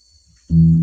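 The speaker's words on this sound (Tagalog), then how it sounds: "Yan lang yung tunog ng Smyger na 10-inch speaker." A bass guitar note through a Smiger TB-60 bass amplifier's 10-inch speaker, a short deep sustained tone that starts abruptly halfway in after near silence.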